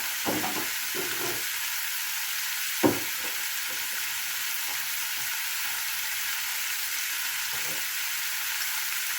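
Chicken adobo made with Sprite and potato fries in a pan as soy sauce goes in, giving a steady hiss of sizzling with a few soft knocks and one sharp clack.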